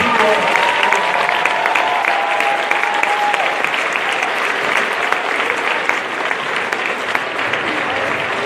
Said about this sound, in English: Big round of applause for the 84